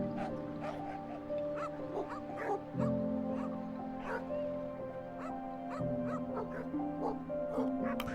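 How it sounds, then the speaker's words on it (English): Sled dogs in a polar expedition video game bark, yip and whimper in short, overlapping bursts, with high whines rising over a low droning background tone. "The dogs scramble as she launches the meal across them"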